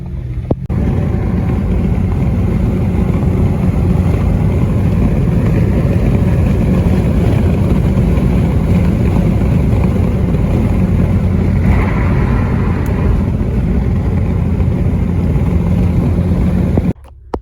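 A Ford Focus ST with a blown motor drives along, its engine running as a loud, steady drone with constant road and cabin rumble throughout, no talking.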